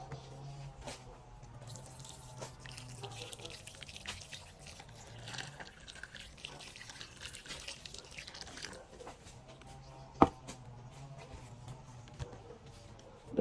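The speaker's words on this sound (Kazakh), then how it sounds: "Ыстық су құям." Hot water pours and trickles steadily over sheep intestines and tripe being cleaned, a soft continuous splashing with a few drips, one sharp clink near the end.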